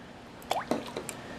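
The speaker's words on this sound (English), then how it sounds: "in a small bowl you're going to add the water" Water trickles into a small bowl while a pork chop marinade is being mixed, heard as a few soft, separate drips and plops, close and faint over a quiet background.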